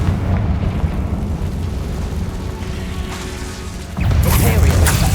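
A Confringo fire spell explodes in Hogwarts Legacy, a sudden loud, broad blast that bursts out after a steady rumbling background and keeps roaring to the end.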